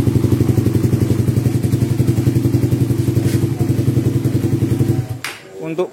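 A Suzuki Satria FU motorcycle engine idles close by with an even, rapid pulsing beat for about five seconds, then cuts out, leaving a brief clatter and a few knocks.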